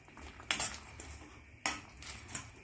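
A spoon stirs fried bitter gourd into a salted curry in a metal pot, giving two sharp scraping clanks a second apart, each followed by softer rattling, close and clear with no talk.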